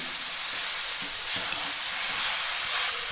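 Mango pieces for gulamba stirred in a cooking pot, a continuous close hiss with soft scraping and gentle bubbling textures, no voices.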